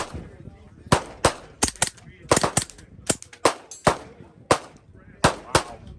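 Sharp gunshots from a B&T SPC9 pistol caliber carbine ring out in an irregular string of a dozen or so cracks at close range, with faint background noise between shots.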